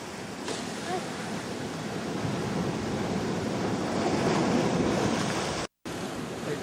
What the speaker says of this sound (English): here you can see the waves breaking way out